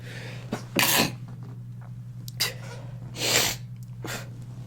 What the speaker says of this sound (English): Oh, I feel a sneeze.